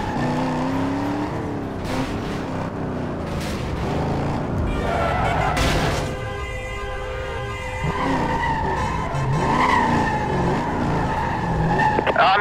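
A silver sports car, a BMW speeding on a highway, screeches with long skidding tire squeals over continuous engine noise, loud and close, while a voice talks intermittently underneath.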